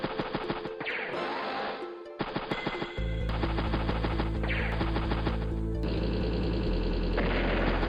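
A unit fires its weapon in the strategy game Advance Wars: Days of Ruin, a clattering burst of rapid shots with crunching impacts over looping game music, followed by a heavy booming hit as the music swells.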